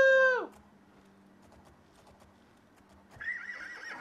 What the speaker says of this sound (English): The fastest horse in the game!